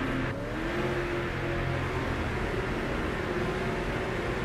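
A race car engine in the NASCAR 2005 video game at Watkins Glen revs up steadily, a continuous droning whine rising in pitch, close and fairly loud with no talk.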